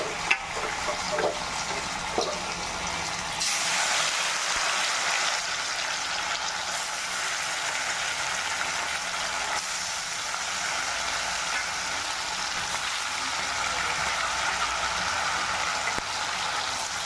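Fish fries on a tawa in hot desi oil, a dense, steady sizzle close by that holds for the whole stretch, with a few small clinks early on and no talking.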